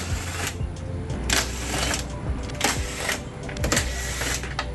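Rapid whirring clicks of a power tool backing out 10 mm screws on a Mini Countryman R60 Cooper S, heard in short repeated bursts over a steady mechanical background hum.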